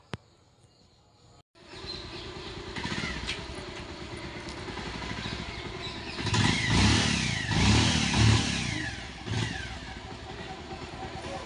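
A motorcycle engine, shifted into neutral, runs steadily after a brief silence, its low rumble swelling with a couple of blips of throttle before settling back, close and continuous without talk.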